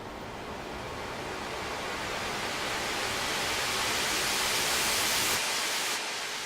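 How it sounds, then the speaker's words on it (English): A synth noise channel washes in as a broad hiss, soaked in echo and reverb, slowly swelling and brightening over several seconds before cutting back near the end, with no voices. "When it came time to do these huge sweeps of noise that would envelop the entire mix, I added a lot of echo and a lot of reverb"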